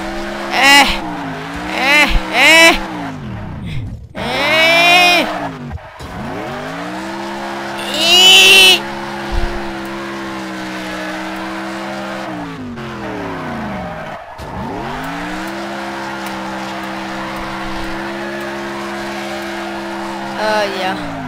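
Arcade-style car in Next Car Game revving and squealing its tires through turns, engine tone sweeping up and down with repeated sharp skid bursts, loud and close, with talk over parts of it.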